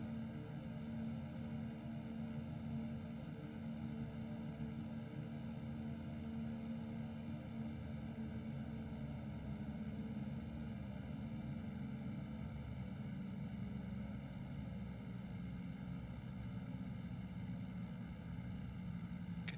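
Turboprop engines of an aircraft in X-Plane 11 bush flying in Alaska, a steady droning whine with sustained tonal hum, idling evenly and continuously without pauses.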